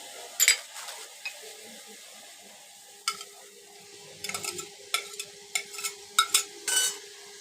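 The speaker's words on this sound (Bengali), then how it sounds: "মোচাটাও দিয়ে দেবো বন্ধুরা দিয়ে একসাথে কষিয়ে নেবো" Banana flower is stirred and sautéed in oil in a pan for a Bengali mochar ghonto, with scattered spoon scrapes and clinks against the metal pan over a quiet sizzle, sparse at first and then more frequent.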